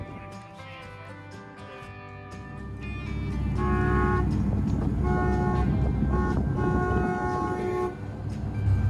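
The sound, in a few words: boat's train horn blowing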